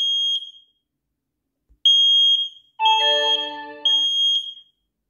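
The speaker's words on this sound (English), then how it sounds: "And there is the smoke alarm. Smoke alarm. Oh, the sound is so loud." An X-Sense XS01-WT Wi-Fi smoke detector sounds its alarm: loud, piercing electronic beeps in short bursts separated by silence, with a lower tone overlapping one burst.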